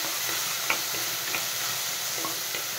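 Chopped tomato sizzling and being stirred in a hot pan for chicken masala, a dense steady frying hiss with a few light scraping clicks, close and continuous.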